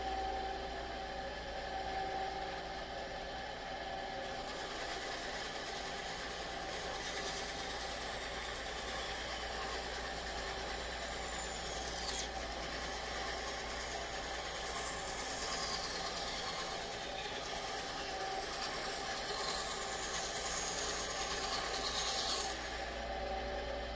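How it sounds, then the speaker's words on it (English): A bandsaw cuts a circle in scrap wood with a continuous loud motor hum and rasping blade noise that holds steady throughout. "So I waited for the bandsaw to stop."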